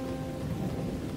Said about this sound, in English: So the two of them decide to make their thunder form a tune.